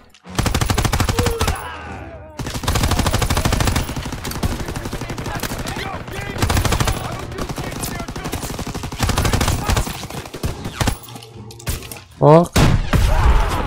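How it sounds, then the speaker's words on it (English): Rapid bursts of gunfire from Call of Duty: WWII crackle loudly and nearly continuously through the scene, with dense automatic volleys and scattered single shots, while a voice curses briefly over the battle. "He shot me in the back."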